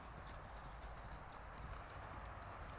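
Horse hooves walking with a long stride, a steady clip-clop of regular footfalls, faint and somewhat distant, with no talk over it.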